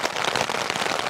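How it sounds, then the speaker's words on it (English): Steady rain pattering straight down onto a tent during wild camping in the Lake District, a dense, close, continuous patter of drops with no wind gusts and no voices. "The rain is pretty much coming straight down."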